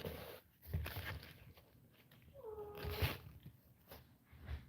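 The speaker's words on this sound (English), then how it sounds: "I'm gonna go let my cat out real quick" A house cat gives a couple of faint, drawn-out meows close by, with soft thumps and room noise around them.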